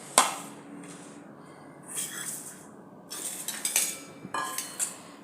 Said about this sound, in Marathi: याचं पीठ पहिला भिजवून घेऊया।